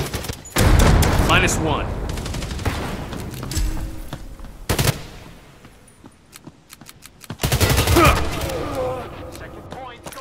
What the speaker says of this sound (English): The light mortar support inbound.